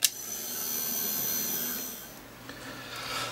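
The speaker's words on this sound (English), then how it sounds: "I'm going to give that a blast with the heat gun" A heat gun blows over an art journal base, making a steady airy roar with a low hum that eases slightly midway and then continues, close and unaccompanied.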